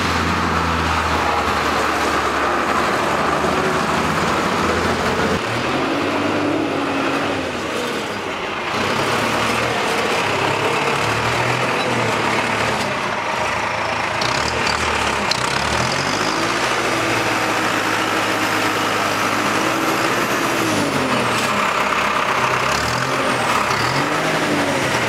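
A New Holland 8970 tractor, model year 2000, with an 18-speed full power shift transmission, runs close by on a manure-spreading job, its loud diesel engine droning steadily with shifts in pitch as it works.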